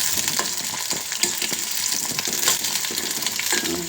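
Mysore brinjal (eggplant) frying in hot oil in a pan, a steady close sizzle with scattered crackles and occasional stirring scrapes, no voices.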